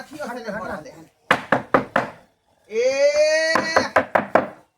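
A wooden stick raps sharply on a door in a series of quick knocks, in groups of four, between stretches of loud speech.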